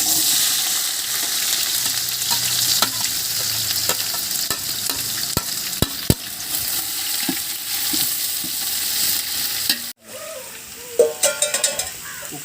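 Onions and whole spices for a country chicken biryani fry in a hot pan, a steady loud sizzle with scraping stirring clicks throughout, briefly cut off near the end before sizzling resumes.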